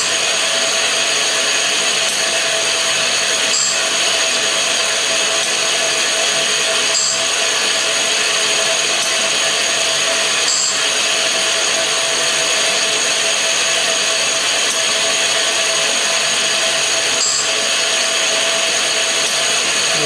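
A grinding machine sharpens saw teeth, a loud continuous high-pitched whine with faint periodic shifts as each tooth is ground, steady and close throughout.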